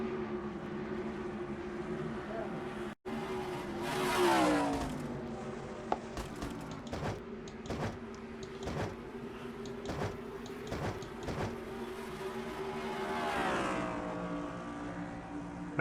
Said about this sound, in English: See all those trucks coming off that corner here, right here.